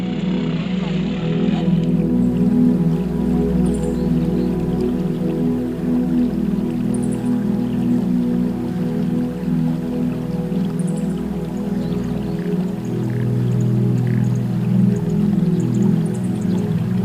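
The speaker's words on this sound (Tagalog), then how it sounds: "Umuulan." Steady rain falling outdoors in a rural Samar community, a continuous dense patter with a low rumbling background throughout, no voices.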